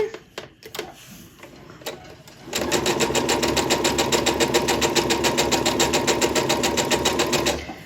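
A sewing machine stitching a quilt block seam runs in a steady fast whirring rhythm for about five seconds after some soft handling noises, then stops.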